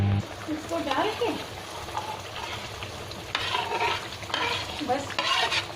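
Paneer cubes lightly frying in a pan of gravy for matar paneer, a soft bubbling sizzle with occasional stirring scrapes and clinks, and a voice talking over it.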